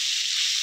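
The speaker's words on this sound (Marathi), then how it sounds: "आता गॅस फुल करायचा आहे आणि हे कारल्याचे फ्राय करायचे." Boiled bitter gourd (karela) frying in oil on full gas, a steady bright hiss of sizzling that holds evenly for a brief moment, close and fairly loud.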